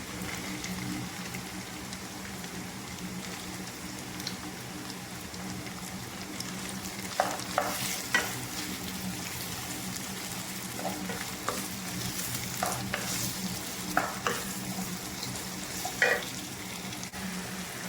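White onion fries with ginger in a pan, giving a steady, even sizzle with occasional sharp clinks of stirring throughout.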